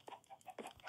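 Chicken clucking in a video game: a few short, sharp clucks in quick succession, fairly close and clear, with no talk over them.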